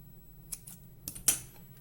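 Scissors trimming excess polymer clay (biscuit) at a workbench, giving a few short, crisp snips, close and fairly quiet, spaced unevenly against low background hum.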